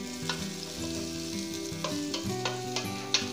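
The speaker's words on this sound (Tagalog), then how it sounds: "Igigisa lang natin ng konti yung ating pork para mas masarap." Pork and onion sautéing in a pan for sinigang: a continuous sizzle with scattered crackles and pops and stirring scrapes, close and fairly loud, with steady background music and no talking.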